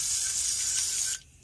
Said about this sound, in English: I'm going to spray some soaky soak on it.